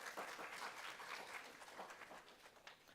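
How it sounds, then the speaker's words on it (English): Applause from a university student government assembly fills the room, steady clapping from a modest crowd at moderate level with scattered individual claps standing out. "Can y'all give them a round of applause?"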